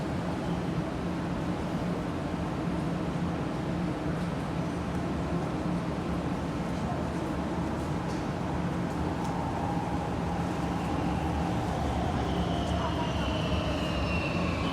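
A Warsaw Metro Inspiro train, number 50, pulls away from Natolin station toward Kabaty, a loud continuous rumble with a rising motor whine, close by.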